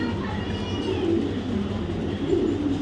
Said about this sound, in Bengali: পেয়ার ব্ল্যাক রেসিং হোমা পেয়ারের বেবি কবুতর